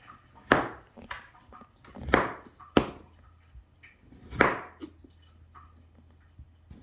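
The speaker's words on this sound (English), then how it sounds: "Let me get chopping." Sharp knife chops strike a board, five or six uneven cuts with short pauses between them, close and fairly loud in a quiet room.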